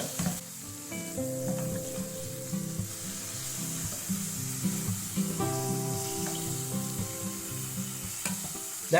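Chicken strips frying in a nonstick pan as they are turned with a spoon, a steady sizzle under repeated scraping and clacking strokes, close and continuous.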